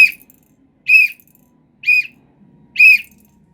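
Four short, shrill whistle blasts, evenly spaced about a second apart, loud and close with silence between, used in dog conditioning.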